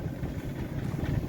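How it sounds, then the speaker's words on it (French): The inboard engine of a Sun Odyssey 35 sailboat runs at night in light wind, a steady low, throbbing drone with faint mechanical clatter, heard close and continuous. "on a dû allumer le moteur parce que le vent est tombé à 3 nœuds, 4 nœuds"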